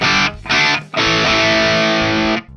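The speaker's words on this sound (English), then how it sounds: "Turning the dial to the right increases the amount of high frequency tones and gives it a much brighter sound" Distorted electric guitar with the treble turned up for a brighter, sparkly edge, played as two short bursts followed by one long sustained chord, loud and alone with no voices.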